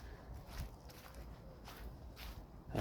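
Soft, evenly spaced footsteps crunch along a wilderness path near cliffs, faint and close, with a quiet outdoor background and no talking.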